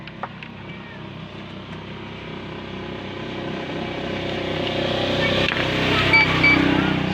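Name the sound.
water pump motor of a coin-operated water vending machine running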